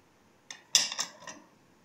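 A spoon clinks and scrapes against a bowl a few times in quick succession while chaat masala is mixed into yogurt; the sounds are brief, close and crisp, against near silence.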